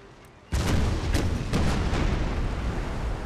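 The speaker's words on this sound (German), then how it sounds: "Selbst auf die Distanz schaffen sie noch Schüsse ins Wasser zu setzen." Ship cannon fire in the Total War naval battle game: a sudden heavy booming barrage erupts and rolls on as a dense, loud, continuous rumble of repeated blasts, with no talk over it.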